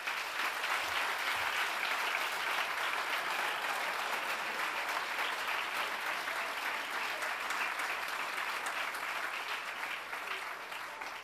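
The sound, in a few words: graduation audience applauding the parents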